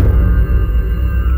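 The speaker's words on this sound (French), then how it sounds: "Ça c'est le bruit du Wither quand il spawn." The Wither spawning in the video game Minecraft gives a loud, dense, steady roar dominated by deep rumbling energy that holds without a break throughout, with no talk over it.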